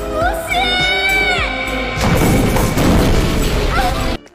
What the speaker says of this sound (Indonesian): Ledakan ini meledak sangat besar.